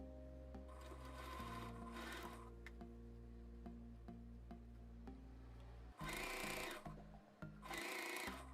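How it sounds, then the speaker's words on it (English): A sewing machine stitches a T-shirt placket up toward the V-neckline, a quiet steady hum with short bursts of louder buzzing stitching near the end. "Then I'm going to continue sewing all the way to the neckline"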